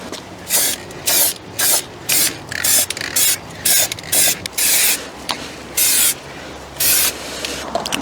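A Ford Fiesta Mk6 car part is spray painted with quick-drying paint from an aerosol can: a steady run of short, loud hissing bursts, about a dozen in eight seconds, separated by brief pauses and heard close with no talk.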